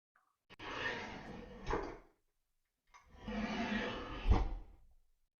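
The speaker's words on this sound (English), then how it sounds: "this first one is going to be a drawer opening and closing" A drawer, simulated in a Matterport room with SoundSpaces, slides open and then shut in two separate wooden scraping strokes. Each stroke ends in a thud, with a short silent gap between them.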